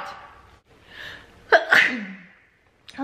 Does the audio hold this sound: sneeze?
yes